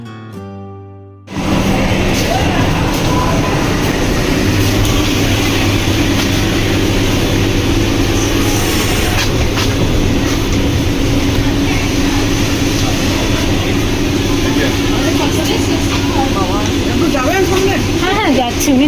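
A traveller's voice talks over loud, continuous rumble from the orange Vande Bharat train, a steady low drone with some higher whine, close and constant for the whole stretch after a brief quieter opening.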